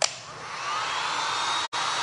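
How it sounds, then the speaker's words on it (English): A hair dryer blows steadily on a glass and resin art piece, a continuous close airy whoosh that cuts out briefly near the end before resuming. "we're going to hit this with our dryer just for a second."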